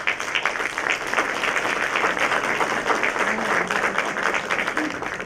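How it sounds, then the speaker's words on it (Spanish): Steady, dense applause from an audience at a Mexican federal Chamber of Deputies seminar, loud and sustained throughout with a faint voice or two underneath. "Rindámosles un fuerte aplauso,"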